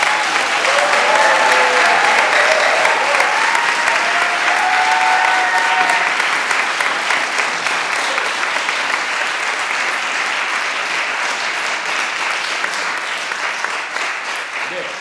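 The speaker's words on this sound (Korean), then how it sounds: "김철 연주자에게 다시 한번 힘찬 박수" An audience at a traditional Korean gugak solo recital breaks into strong, sustained applause that fills the room, dense and even for most of the span before easing slightly toward the end, with faint voices and a brief tone early on.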